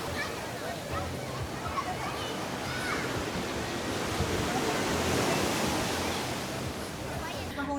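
Steady broadband wash of surf rolling onto a shore at Butuan, Mindanao, Philippines, loud and continuous with a swelling midsection, like waves breaking close by.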